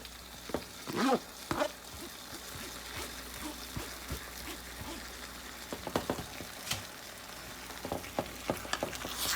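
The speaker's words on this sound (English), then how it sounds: "now we're going in with our chopped up tomatoes" Chopped tomatoes hiss and sizzle in a pan of smoky apple jalapeño BBQ sauce over medium heat, with scattered stirring scrapes and soft bubbling throughout.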